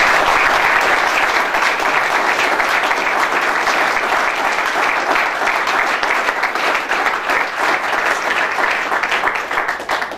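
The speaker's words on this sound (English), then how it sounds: "let's give a big round of applause to our new coach" A large crowd gives sustained, loud applause welcoming Stacy Collins, the new head football coach of the Hardrockers, a Division II program, at a School of Mines event, steady dense clapping throughout the clip.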